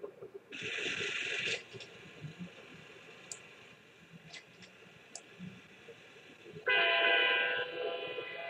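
Steel-hauling trains in the railway video game Chris Sawyer's Locomotion sound two loud horn blasts, one early and one near the end, over a faint rumble of running rails and a few soft ticks.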